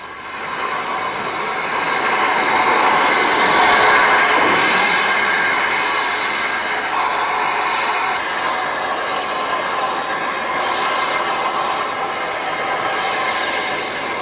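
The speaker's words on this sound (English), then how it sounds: "While George backs the loco down onto the train, Grenville gets ready to couple up the coach" A steam locomotive backs down onto its train on a branch line, a steady loud rolling rumble with hissing and faint clanking that swells early and holds through to the end.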